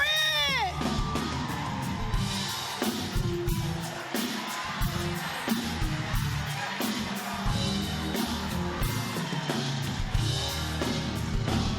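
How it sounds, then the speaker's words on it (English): A church audience at a holiday show yells, whoops and screams in a sustained, lively crowd roar, with sharp cries and scattered shouts throughout. "Give it up for the Grinch!"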